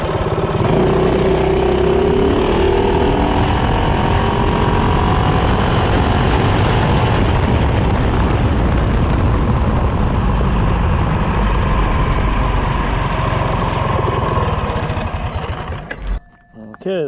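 A CT200U-EX mini bike fitted with a long intake manifold revs hard from a standstill to 30, its small engine droning loud and close and climbing steadily in pitch before cutting off abruptly near the end.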